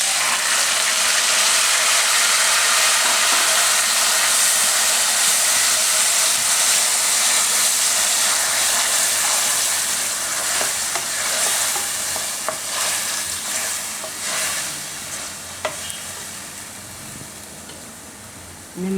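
Ginger, chillies and tomatoes frying in a pan for raw banana kofta curry, a loud steady sizzle with scraping stirs and occasional clinks, the hiss easing slightly toward the end.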